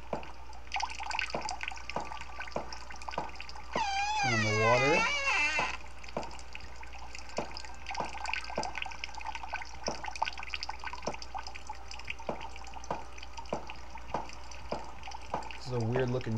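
Water running for a bath in the video game The Midnight Man, a faint tap flow with repeated drips, along with a brief wailing cry and other game sounds.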